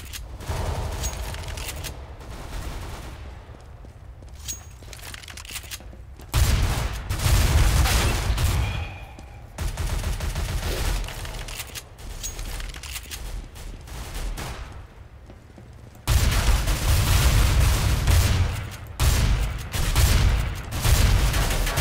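Gunfire in Counter-Strike: Global Offensive, dense bursts of automatic and single shots from several players, loud and near, with heavier surges of fire in the middle and toward the end.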